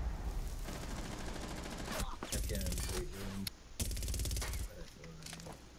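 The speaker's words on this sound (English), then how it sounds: "They're shooting at me" Gunfire in Rainbow Six Siege during a house team deathmatch bomb round, rapid bursts of shots fairly close and loud, broken by brief pauses, with game effects mixed in.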